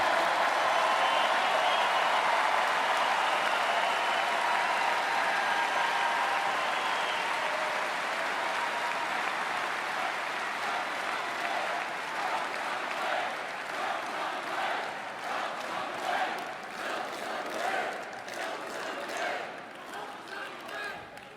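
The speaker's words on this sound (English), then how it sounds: "it is so nice to hear you cheering for what I just said" A live audience cheers and applauds at a political speech, a dense, loud wash of clapping and voices that holds steady and slowly thins toward the end, with no talk over it.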